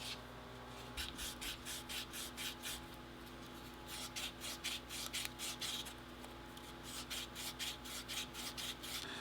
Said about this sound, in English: And you want to make sure that you sand these edges a bit